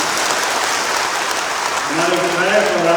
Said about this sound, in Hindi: उसके लिए जोरदार ताली तो बनती ही बनती है।